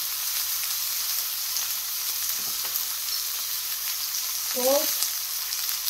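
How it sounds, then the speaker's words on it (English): Steak searing in a hot pan for Sicilian-style steak pizzaiola, a loud steady sizzle and crackle that fills the whole stretch, with a brief spoken word near the end. "And do the steak alone. Let it sear."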